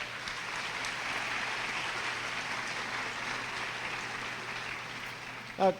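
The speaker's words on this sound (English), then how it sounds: "Can you give them a big round of applause for that?" Audience applause fills an eighth-grade graduation ceremony, a dense, steady wash of clapping that holds at an even level from start to finish.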